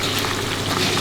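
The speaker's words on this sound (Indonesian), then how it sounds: "tempenya udah masuk ke minyak panas" Tempeh frying in hot oil, a loud, dense, continuous sizzle and crackle close by with no voices.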